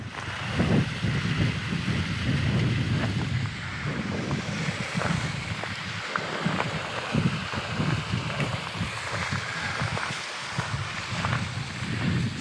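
Steady wind buffets the microphone on the West Highland Way, a continuous low rushing roar with gusty surges throughout, cold and exposed, with no voices.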